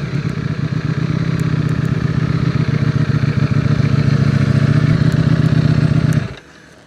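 Ducati Desmosedici RR motorcycle engine running loud and steady up close, a deep throbbing idle with slight revs that cuts off abruptly near the end, leaving only faint background noise.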